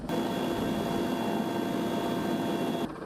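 A helicopter hovers in the air, giving a steady, dense engine and rotor roar with a constant high whine, loud and close throughout before cutting off abruptly near the end.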